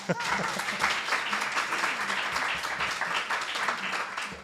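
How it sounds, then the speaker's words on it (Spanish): A strong round of audience applause, dense continuous clapping filling the room at a steady level for several seconds. "vamos a darle otro fuerte aplauso a iVoox"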